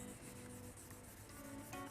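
Steady abrasive rubbing of cutting compound against a PVC fence to lift graffiti, a continuous close scrubbing texture with small strokes and no talk.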